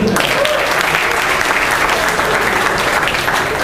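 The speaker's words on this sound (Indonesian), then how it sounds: "Beri tepuk tangan buat Planet Hollywood." Loud, sustained applause from a large stand-up comedy audience in Bali, a dense wash of clapping that stays strong and even for several seconds.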